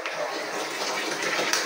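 Water pours steadily from a household tap, a continuous broadband gush with a slight surge near the end, heard close and alone.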